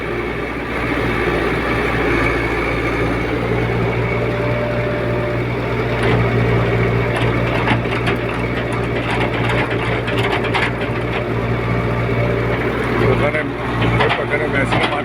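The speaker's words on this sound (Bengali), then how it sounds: "ওখানে মেশিনে মাটি তৈরি হচ্ছে" Brick-making machine churning and mixing clay, with a loud, steady mechanical drone and rattle that continues throughout and rises a little in the middle.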